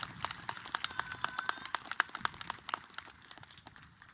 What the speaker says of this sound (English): You know what, senior class, give yourselves a round of applause for that